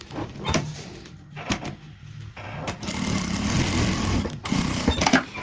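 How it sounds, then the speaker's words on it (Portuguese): A sewing machine runs a straight seam on a zippered toiletry bag, a dense mechanical whirring that starts, pauses briefly and resumes louder and steadier, close to the listener. "E vamos passar uma costura reta aqui."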